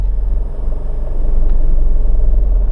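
Heavy diesel engine of a 2000 Hino Dutro cargo van running, a loud, close, steady low rumble that swells slightly toward the end.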